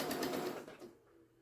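Sewing machine stitching scrap fabric postcards, a short close run of rapid mechanical whirring that stops abruptly and leaves quiet room tone.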